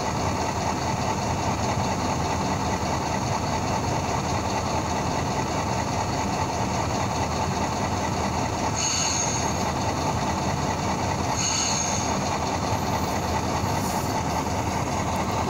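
Model GP-7 diesel locomotive with Tsunami 2 DCC sound, a steady droning engine idle held loud and close throughout, with two brief sharp squeals partway through.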